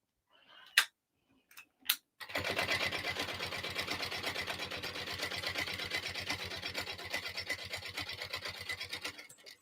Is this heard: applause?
no